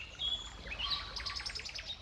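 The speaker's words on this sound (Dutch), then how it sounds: "Het is doodstil op wat fluitende vogeltjes na." Small birds chirping at a deserted, silent holiday park in Zeeland, with a thin, faint outdoor mix of high whistles and a quick series of repeated tweets against quiet background noise.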